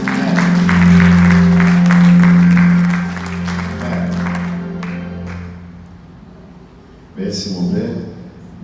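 A church congregation applauding, a dense crackling clap texture over sustained low tonal sound for about five seconds. The applause fades, then a brief louder burst of activity follows near the end.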